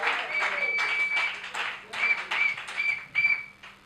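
Church congregation at a Sunday worship service applauding together, a steady wash of clapping in pulsing waves with cheering and shouts mixed in, fairly loud and continuous throughout.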